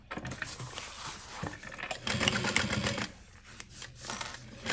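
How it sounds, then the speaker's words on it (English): Leather shoulder bag being stitched by hand or machine, a close, rapid run of needle taps and mechanical clatter with brief pauses. "I'm going to sew it all down first"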